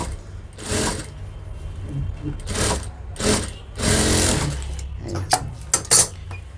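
A sewing machine runs a second line of stitching over an existing seam on a double blouse sleeve, in several short loud bursts separated by pauses and small clicks.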